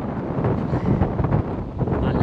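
Strong wind buffeting the microphone at an outdoor pilgrimage spot visited on a cycling trip, loud gusty roaring in uneven surges throughout.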